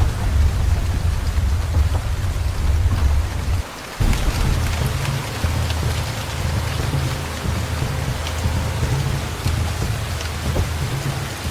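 Heavy tropical rain pours steadily and drums on a car in Banco National Park, Abidjan, Côte d'Ivoire, with deep rolling thunder underneath and a brief dip in the middle.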